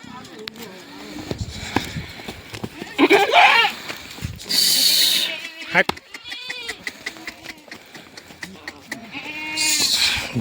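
Kathiawadi goats bleat loudly in several separate calls among a crowd of animals, with someone talking over them and other voices and livestock noise nearby.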